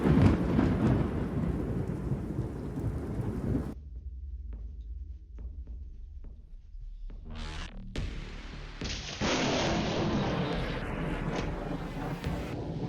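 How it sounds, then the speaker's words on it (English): Heavy rain pours during a thunderstorm near the Sydney Opera House, a dense hiss with low thunder rumbling beneath, dropping briefly to a quieter patter before the downpour surges back loud and steady. "Rain and lightning poured down near the Sydney Opera House, a vivid reminder of nature's unpredictable force."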